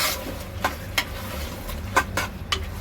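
A spoon scrapes and clacks against a pot of mutton madhooth in a short series of distinct strokes, with a low steady simmer underneath and no talking.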